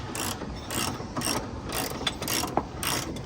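A hand ratchet tightens U-bolts during a 6-inch rear lift install on a Jeep XJ. It clicks in a quick, even rhythm of about seven close bursts, with no voices.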